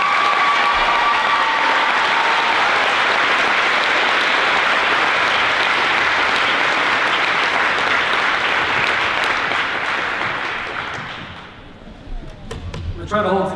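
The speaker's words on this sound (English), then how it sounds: "Give him a round of applause." Loud, continuous applause from an audience at a high school awards ceremony, holding strong for about eleven seconds before fading out into a few thuds and brief voices.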